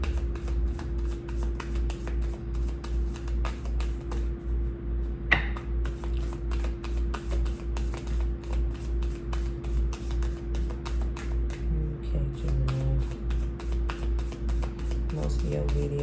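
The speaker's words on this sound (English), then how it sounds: "Most of your video is just gonna be shuffle, huh?" Tarot cards are shuffled in quick, repeated riffling strokes over a steady low hum, close and fairly crisp, with a brief louder snap partway through.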